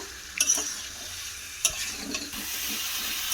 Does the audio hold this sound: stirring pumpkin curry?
yes